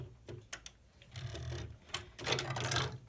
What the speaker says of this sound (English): But the elevator's fairly easy to use. You just wind this.